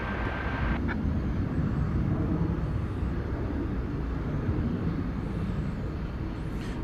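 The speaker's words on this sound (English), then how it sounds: "Hi Walt, thanks for staying up a while so I can get a little plane and frog noise." Airplane at DFW Airport at night, a steady broad jet engine roar held throughout at moderate distance, constant and unbroken with no talk.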